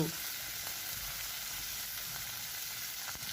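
Washed mushrooms hit a hot pan and fry with a steady, close, even sizzle that continues throughout, with no talking.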